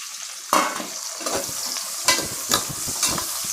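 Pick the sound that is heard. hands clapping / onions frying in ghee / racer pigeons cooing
onions frying in ghee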